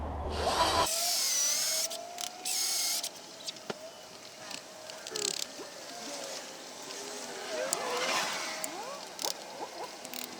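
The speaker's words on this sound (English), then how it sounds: "The drill bit's through on the inside." A power drill bores through a metal paint bucket while a furnace is being built, the motor whining in short uneven bursts near the microphone with clatter and handling noise between runs.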